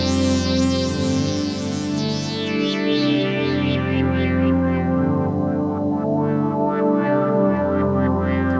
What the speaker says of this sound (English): Bit of tape delay.